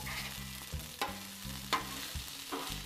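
Bacon, onions and potatoes fry and get stirred in a pan for breakfast burritos, with a steady sizzle broken by a few sharp utensil clinks and scrapes against the pan.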